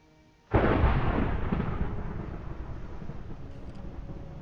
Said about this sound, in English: That thunder just sounds really freaking awesome on this end